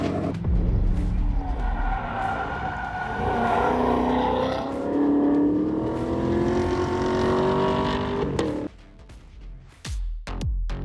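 A Chevrolet Camaro with a 6.2-litre V8 revs loudly up close with a deep, rising roar, then drops to a quieter idle near the end.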